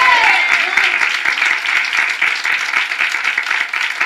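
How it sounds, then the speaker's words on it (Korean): A church congregation claps during a Sunday morning worship service, with dense, sustained applause at a steady level and a voice speaking at the start. "우리 하나님께 먼저 한번 박수로 영광을 돌리겠습니다."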